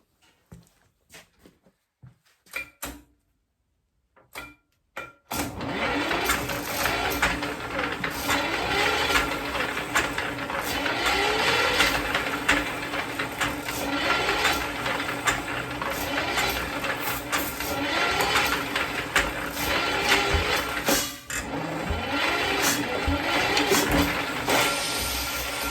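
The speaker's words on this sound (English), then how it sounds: "Starter don't want to engage." Starter motor cranking a Wu Ling diesel engine, a few sparse clicks and taps, then a sustained loud mechanical whirring and grinding that runs continuously with a brief dip near the end.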